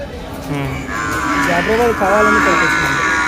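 Buffaloes and calves low and moo amid the bustle of a buffalo market, with voices talking nearby.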